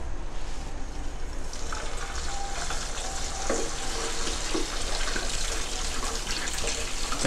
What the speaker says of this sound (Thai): ทอดปลาให้สุกทั้งสองด้านนะครับเพื่อน